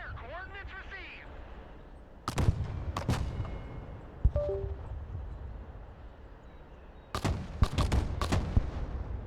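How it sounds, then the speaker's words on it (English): Mortar artillery fires in the Broken Arrow war video game. Heavy booming blasts come in clusters over a rumbling background, after a short synthetic voice at the start. "The mortars are waiting for a fire mission order to destroy the targets."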